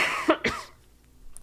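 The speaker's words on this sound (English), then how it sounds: "Now I'm the one with the cough." A person coughs twice in quick succession during a relaxed podcast conversation, close and fairly soft, followed by quiet room tone.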